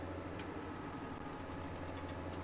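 A tractor engine idles in Farming Simulator 2017, a steady low mechanical hum running evenly throughout with faint clicks on top and no talk.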